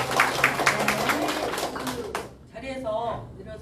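Scattered audience clapping at a Namwon Gaya history public lecture, a dense patter of hand claps for about two seconds under a murmur of voices, then fading out as a person begins talking.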